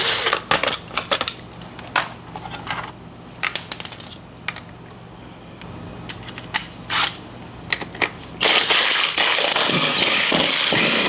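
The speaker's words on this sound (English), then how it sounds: "I'm gonna go grab my sockets and the mini impact and we will take this wheel off of here" Metal sockets clatter and clink in scattered bursts, then a mini impact wrench loosens an RV wheel with a loud, sustained rattling buzz near the end.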